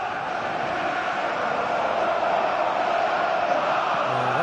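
Stadium crowd roaring and cheering in a PS4 football video game, a dense, steady wall of crowd noise that holds for several seconds without letting up.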